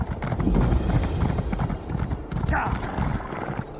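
Horse galloping in The Elder Scrolls Online, a steady run of rhythmic hoofbeats with a brief whinny-like cry midway, fairly loud and continuous under the game's background sound and occasional talk.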